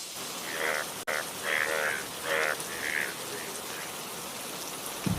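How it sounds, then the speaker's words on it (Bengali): Heavy rain pours down steadily in a Bengali fairy-tale cartoon, a dense wash of water noise with a brief sharp break and a few tonal voice-like bursts above it. "এই বৃষ্টি যে কমবার নয়, এদিকে ঘরবেও যে জল পড়ছে।"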